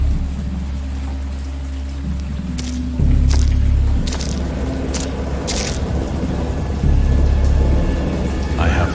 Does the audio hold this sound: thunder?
yes